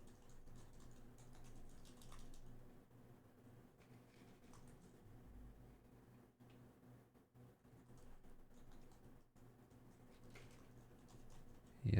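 Computer keyboard typing during a livestream, quiet, with irregular bursts of key clicks over a low steady background hum.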